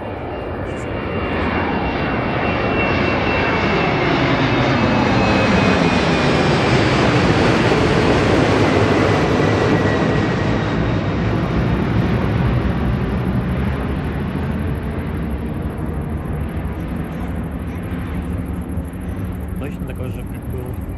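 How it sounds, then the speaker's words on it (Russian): A Finnair Embraer E190LR jet takes off from Warsaw, its engines roaring loud and steady as it accelerates and climbs, the broad rumble holding for the full run with a faint whine above it. "Очень быстро набирает скорость. И взлет почти с середины полосы."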